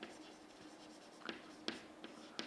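Chalk or pen strokes from an equation being written during an engineering lecture, a few short scratchy bursts spaced irregularly, faint and close.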